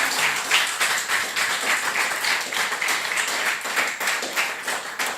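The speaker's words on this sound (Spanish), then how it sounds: "Denle un aplauso al Señor por eso" A church congregation at a Sunday service applauds in a lively, continuous burst of many hands clapping, loud and close with slight rhythmic surges throughout.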